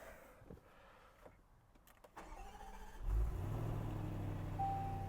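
A supercharged Range Rover V8 fires up after a few quiet clicks and whirs, catching at once into a loud, steady idle that stays close and alone.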